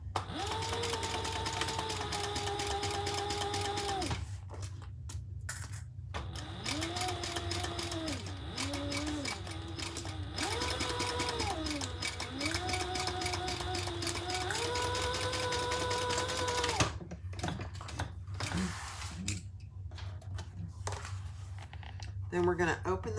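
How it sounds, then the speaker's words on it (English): A sewing machine stitches the seam of a crossbody bag with a steady, sustained motor whir and needle chatter. It runs nearly the whole time and pauses briefly a few times, with speech and background music over it. "Sew that together at the seam allowance."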